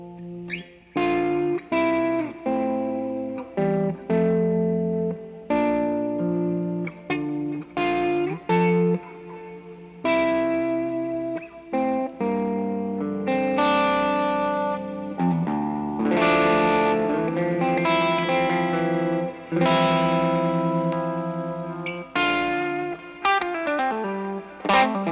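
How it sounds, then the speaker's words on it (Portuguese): Electric guitar played through an Electro-Harmonix Soul Food overdrive with reverb added, ringing out crunchy, sustained chords and note runs with a lingering reverb tail, loud and alone without talk. "Vamos brincar com reverb aqui."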